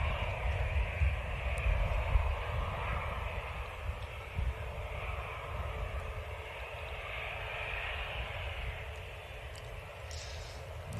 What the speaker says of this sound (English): This is a Ryanair from Seville. 738 MAX.